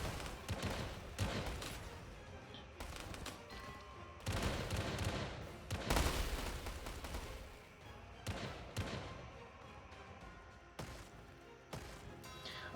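Mortars and howitzers fire in a war strategy game, a run of sharp, loud blasts and crackling volleys spaced irregularly, some heavy thumps standing out amid continuous battle noise.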